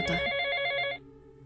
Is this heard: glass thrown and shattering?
no